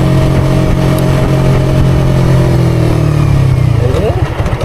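A motorcycle rides a mountain road on the Cetho route up Mount Lawu. Its engine drones loud and close with a steady hum, then the pitch drops and breaks into a rougher, pulsing rumble near the end.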